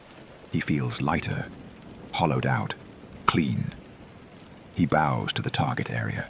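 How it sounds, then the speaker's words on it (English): Soft, steady rain falling as a faint hiss beneath a calm narrating voice that talks throughout, heard in a quiet setting. "He listens to the rain."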